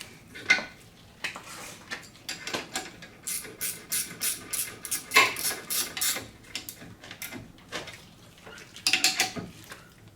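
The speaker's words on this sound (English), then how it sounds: "Once everything's back in place, I'll reinstall my lower slide pin here" Metal parts clink and rattle in bursts as the lower slide pin goes back into a rusty Mitsubishi Outlander front brake caliper, with quick ratchet-like clicks and tool taps close by.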